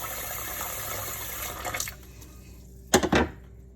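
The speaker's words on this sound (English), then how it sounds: "I'll just rinse the catfish with cold water" Cold tap water runs over catfish being rinsed in a sink, a steady splashing stream that stops, then returns as a couple of short, louder gushes near the end.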